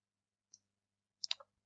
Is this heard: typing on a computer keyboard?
yes